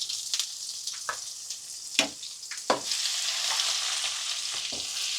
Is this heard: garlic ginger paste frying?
yes